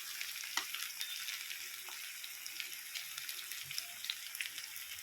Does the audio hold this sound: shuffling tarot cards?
no